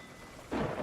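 Stormy weather at sea in the video game Sea of Thieves, a steady wash of rain that swells suddenly into a louder rumbling roar halfway through, with no voices.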